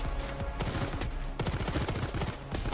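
Rapid gunfire from a gun in the video game Payday 2 during a bank heist, dense bursts of sharp shots in quick succession with brief pauses, loud and close.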